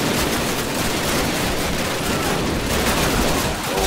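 Dense, continuous gunfire from an enemy in Call of Duty, a steady wall of rapid shots at full volume with almost no pause and no talk.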